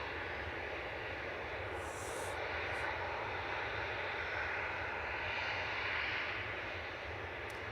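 A plane taxiing in at Manchester Airport, its engines a steady, broad roar heard from a moderate distance, holding fairly even across the stretch with a slight swell toward the end.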